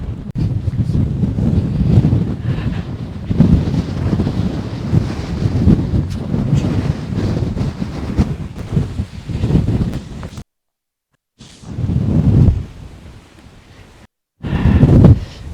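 Strong wind buffets the microphone on an exposed rocky viewpoint of Asperö Island in the Gothenburg archipelago, Sweden, a loud continuous roar broken by two brief silent gaps near the end.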